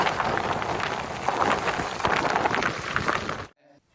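Dense, loud downpour of heavy rain drumming steadily on a village mud house with a rushing hiss, cutting off abruptly near the end.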